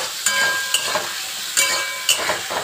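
Spice paste and sugar sautéing with cabbage in a vegetarian cabbage curry: a steady, close sizzle broken by several sharp scraping stirs at uneven intervals.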